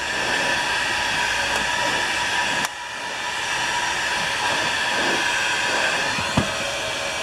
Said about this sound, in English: now I'm just heating up the end of this tubing to go on the pump